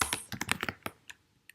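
Rapid keystrokes on a computer keyboard type a file name in a quick, close burst of clicks that taper into a few scattered taps.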